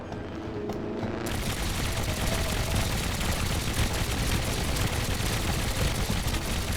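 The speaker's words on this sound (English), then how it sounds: "Great use of those new little mini cannons." Tiny mini cannons on a Trailmakers game build fire in a dense, continuous barrage of rapid shots, loud and steady throughout after a brief quieter opening.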